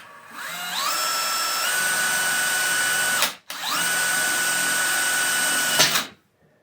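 Power drill with a 1/4 inch bit boring through a 4-inch fiberglass rocket body tube near the fin root: two sustained whining runs, each rising in pitch as the motor spins up, separated by a brief stop and ending abruptly.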